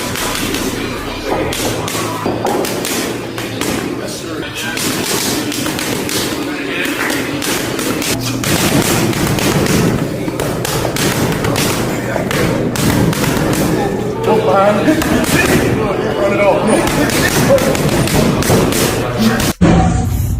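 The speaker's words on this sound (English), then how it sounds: "as he drilled punch routines at lightning-fast speed with his padman" A boxer drills fast punch routines on pads held by a padman, a dense, rapid run of loud thuds and slaps over a busy gym background with voices.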